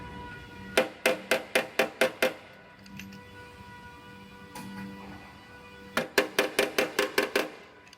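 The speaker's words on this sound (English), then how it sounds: "I could get inside this taillight pocket and hammer this area out" A short-throw hammer beating out the taillight pocket of a car body in a body shop, two rapid bursts of about seven or eight sharp metallic strikes each, close and loud, separated by a quiet pause.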